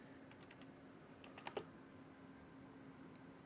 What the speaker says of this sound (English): I'm just going to type this name in.